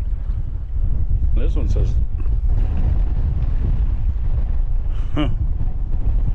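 Wind gusts roar into the microphone outdoors by a river during metal detecting, a loud steady rumble with brief creaks, and someone talks briefly over it.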